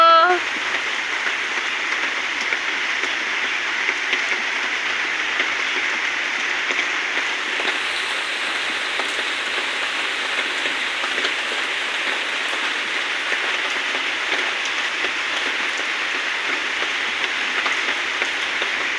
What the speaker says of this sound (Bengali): জয়দীপ বাইরে যেতে পারছে না বৃষ্টির জন্য